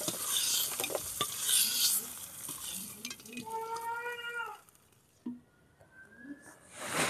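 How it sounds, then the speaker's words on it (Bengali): Vegetables fry in a little oil in a pan while a spatula stirs them, giving steady sizzling, scraping and clinking up close, with a short tonal meow-like sound in the middle and a quieter stretch near the end. "আমি আবার একটু তেল দিয়ে সবজিগুলো একটু ফ্রাই করে নিচ্ছি।"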